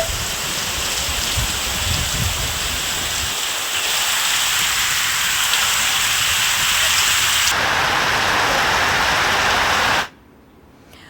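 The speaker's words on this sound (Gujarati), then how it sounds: "ધોધમાર વરસાદ પડતા જ સમગ્ર પંથકનું વાતાવરણ એકદમ ઠંડુગાર બની ગયું છે" Heavy rain pours steadily as a dense, hissing wash for about ten seconds, then cuts off abruptly into near silence.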